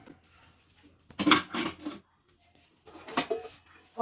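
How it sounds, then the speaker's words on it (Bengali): Kitchen utensils clatter as they are put away in a home kitchen, with two short bursts of clinks and knocks separated by a quiet pause. "এবার বাসনগুলো গুছিয়ে নিই।"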